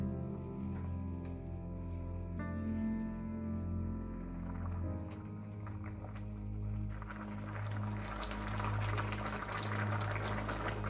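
Pineapple jam simmers and reduces in a pan over heat while being stirred, a steady low bubbling hiss that stays even throughout, with no talking.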